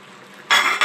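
Tilapia fish slides into hot cooking oil with a sudden loud sizzle that bursts up after a quiet start, dips briefly, then flares again near the end.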